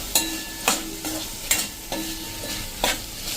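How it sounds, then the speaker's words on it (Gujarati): A spice paste is stirred into ridge gourd curry over a low flame: rhythmic spoon scrapes against the pan, about six strokes, over a constant close sizzle. "અને ગેસની ફ્લેમ સ્લો કરી અને આને મિક્સ કરી લઈએ."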